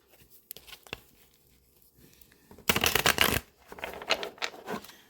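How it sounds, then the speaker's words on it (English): A deck of tarot cards is shuffled by hand, a few faint soft taps first, then a dense close riffle of flicking cards, followed by a second, lighter burst of shuffling. "let the reader shuffle and cut the remainder of the deck 3 times"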